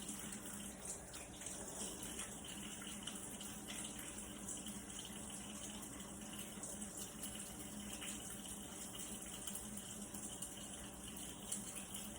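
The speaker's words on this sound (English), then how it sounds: "With hot water, I'm going to wash my hands for 20 seconds" Hot water runs steadily from a tap as hands are washed beneath it, a continuous close splashing hiss with no talking.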